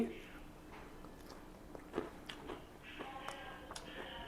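Fish mixed with raita and gravy from a mandi house in Bangalore is chewed with soft, moist bites and occasional light clicks, quiet and close, while a person talks.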